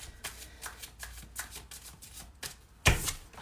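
Tarot cards being shuffled by hand in a series of soft, quick riffling bursts, close and fairly quiet, ending in one sharper slap of the deck.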